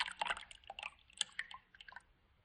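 Soy milk poured into a bowl already holding soy yogurt for egg-free pancake batter, a faint, quiet trickle of small wet drips and splashes lasting about two seconds.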